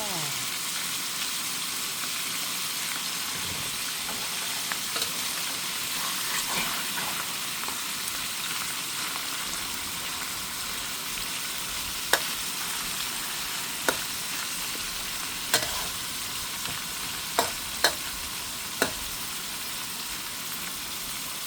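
Eggs and fresh holy basil leaves fry in a large pan, a steady sizzle with bubbling throughout and a few faint, sharp ticks of a utensil in the later part.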